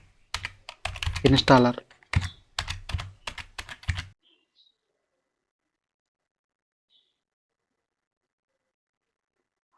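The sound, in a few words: typing on a computer keyboard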